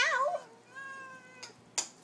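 A house cat meows several times up close: a loud rising call first, then a softer, drawn-out tonal meow, followed by a brief sharp noise.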